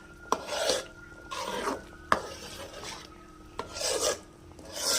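A spoon scrapes and stirs through jackfruit payasam with nuts and crushed cardamom in a pot, giving rhythmic rasping strokes with sharp clinks against the metal rim between them.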